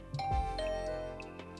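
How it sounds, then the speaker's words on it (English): A doorbell in the video game The Hundred Line gives a bright two-tone chime, the second note ringing out and fading over a low thump at the start. "I rang the doorbell by the side of the door with gusto."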